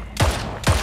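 Two sharp gunshots from the arena shooter game Splitgate ring out in quick succession, each a loud burst with a brief echoing tail, separated by about half a second.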